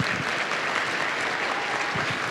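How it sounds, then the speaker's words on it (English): At the SAINTCON security conference opening, an audience gives the venue team a brief round of applause, a steady, even wash of clapping from a large room that persists for the whole moment. "A round of applause is absolutely appropriate here"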